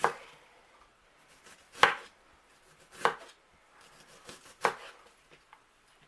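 A knife slicing onions as thin as possible on a cutting board, four distinct sharp chops spaced about a second apart with faint rustling between, close and fairly quiet.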